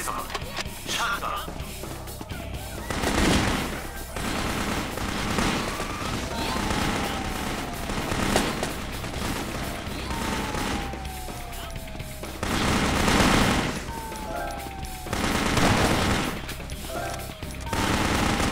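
Gunfire in the Metal Assault video game: repeated bursts of rapid shots and heavier booms, in clustered volleys spread across the stretch with brief whistling sweeps between them, loud and close.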